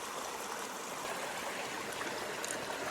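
Steady creek water flowing in a West Virginia woodland stream, a continuous broadband rush and trickle that stays even and fairly close throughout, with no voices.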